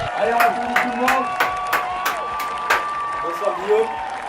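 A studio audience claps to welcome a guest at the start of an interview show, scattered rhythmic claps sounding fairly close, with tonal music or voices running underneath.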